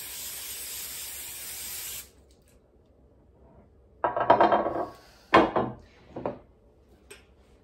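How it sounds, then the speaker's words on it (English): A short burst of cooking spray hisses loudly onto a pan for about two seconds, then stops; a few soft clatters and knocks of the pan follow. "I'm just going to spray my pan lightly"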